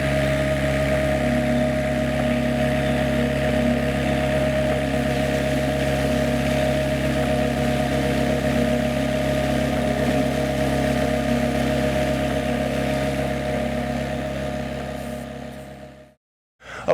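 A SealMaster sealcoating squeegee spray machine runs with a steady, loud engine drone and mechanical hum as it creeps forward, continuing unbroken before cutting off abruptly near the end.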